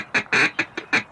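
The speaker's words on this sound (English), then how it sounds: "It's a QTE on how to duck call." A duck call blown in the Duck Dynasty video game gives five quick, loud quacking bursts in an uneven rhythm, heard alone and close up.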